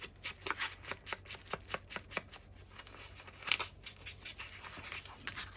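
A small paper card being folded and creased for a vintage student ID, a rapid series of close, soft papery scrapes and rubs in a steady rhythm, quiet and with no talking.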